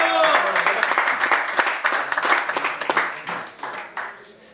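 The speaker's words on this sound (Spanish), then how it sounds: "Aplauso, por favor." Audience applause at a rural rodeo-style event, lively and close for a few seconds with some voices mixed in, then gradually dying away.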